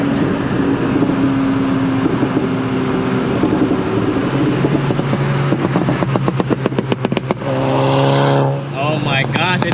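Car engine, apparently a Volkswagen Mk6 GTI, revving loudly and close after a missed shift into fourth gear, the revs falling and then climbing in rapid pulses while people talk over it.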